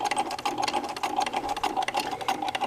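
A Singer 237 sewing machine stitching under hand-crank power, a close, steady rapid clatter of needle and mechanism running continuously and fairly quietly with no talking.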